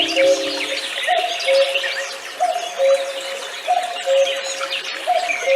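A bird's two-note call repeats steadily, roughly every second, as in a sung children's game about a cuckoo during a kindergarten music lesson, sitting clearly above a bright, busy background of other sounds with no talking.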